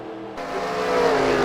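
Race car engine in a Cars video game, a steady motor drone that rises in pitch and loudness as it revs up over a moment, with no voices.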